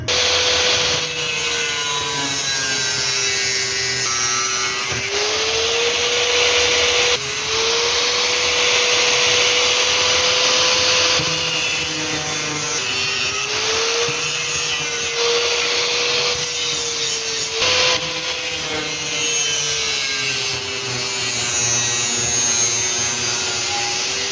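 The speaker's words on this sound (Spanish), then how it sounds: "ya te vamos a proceder a cortar para que podamos unir la pieza y ver qué tal nos quedó el corte" A power saw runs steadily while cutting through profile pieces, forming a 90-degree joint between two different profiles. The loud, continuous whine shifts pitch with each pass through the material, with brief dips between cuts and no talking.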